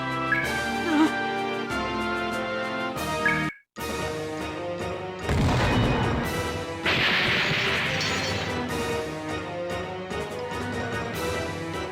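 A Mag Launcher shot fires in the Evolution Worlds video game, a heavy crashing burst amid swelling game music, followed by a sustained hissing blast of noise in the latter half.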